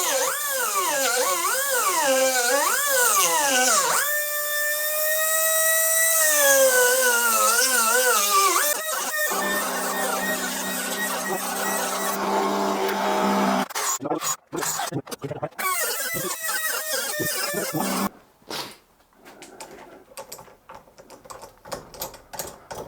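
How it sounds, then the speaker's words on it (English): A small, sharp carbide burr on a high-speed rotary tool grinds out a broken turbo stud, a loud whining drill tone that rises and falls as the load varies, then breaks into short stuttering bursts and pauses. "I'm going to use this little carbide burr to open it out a little bit"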